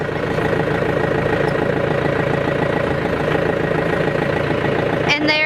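A John Deere 4600 compact tractor idles with a steady, loud, even engine drone while its hydraulics move, with a brief rising whine near the end.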